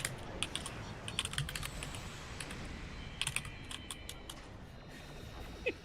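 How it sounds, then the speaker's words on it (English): Computer keyboard typing clatters in quick irregular bursts of sharp key clicks, fairly close and steady, with no speech over it. "Someone techno remix Mayo's keyboard"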